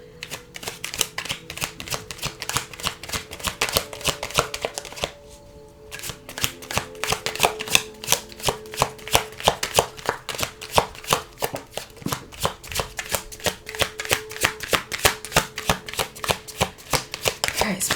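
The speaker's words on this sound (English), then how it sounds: "I'm going to shuffle some affirmations for you guys for pile number 3" A deck of affirmation cards is shuffled close up in a quiet room, with rapid bursts of crisp riffling flutters and clicks repeating in a steady rhythm, a brief pause midway.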